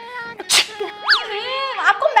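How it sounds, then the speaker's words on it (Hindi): A girl sneezes in a coaching class, one sharp close sneeze followed by voices speaking with exaggerated, sliding tones. "आपको मैनर्स नहीं है कि किस तरह से स्नीजिंग करते हैं?"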